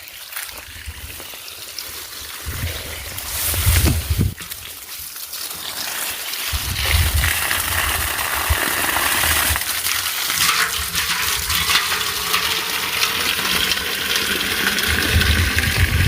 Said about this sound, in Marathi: मोटर चालू झाली आपली